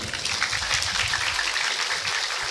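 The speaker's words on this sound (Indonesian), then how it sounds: "Tepuk tangan untuk pondok kadito." A crowd at an outdoor Islamic religious gathering in Probolinggo claps steadily for a few seconds, a dense, even wash of applause at moderate volume with no talk over it.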